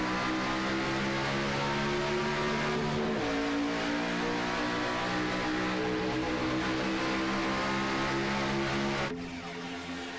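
Several race cars rev hard and accelerate together at the green flag of an OP Grand National race in a racing video game, a loud, steady multi-engine roar with engine pitch climbing and shifting, a brief drop near the end.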